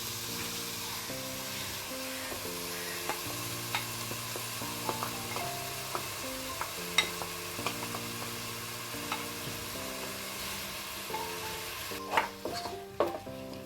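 Pineapple payasam stirred in a pan, soft scraping and bubbling sizzle with occasional sharper clinks of the spoon against the metal, steady and close, with a droning tone running beneath.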